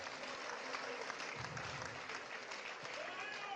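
Audience applause at a Nigerian political address, a faint, steady patter of clapping from a crowd heard at a distance.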